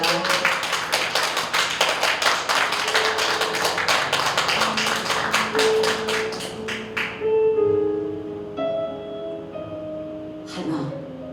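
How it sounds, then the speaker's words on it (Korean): An audience at a poetry recitation contest claps loudly and steadily to welcome a reciter. The applause thins out and stops after about seven seconds, leaving soft tones and a brief rustle. "큰 박수로 맞이해 주시기 바랍니다."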